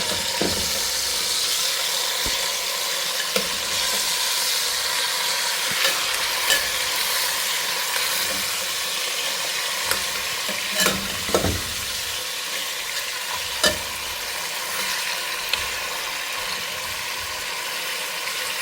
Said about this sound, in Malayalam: കുറച്ച് സമയം ഈ മസാല ഒന്ന് തെരഞ്ഞ് പിടിച്ചേക്കാം.